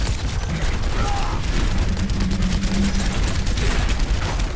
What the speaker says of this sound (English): Everyone just shooting wildly at each other.